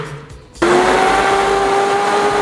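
A kitchen blender whirs steadily as it purées cooked chickpeas into thick hummus with miso, starting abruptly after a brief quiet moment and then holding a loud, constant motor drone with a high whine.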